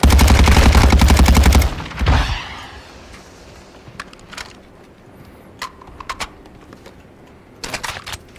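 Rapid automatic gunfire rattles loudly in a DMZ video game match for about two seconds, then gives way to scattered single shots, clicks and quieter game sounds.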